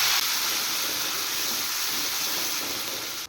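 Spice paste hits hot oil with a loud, steady broadband sizzle that holds continuously for about three seconds with no talking.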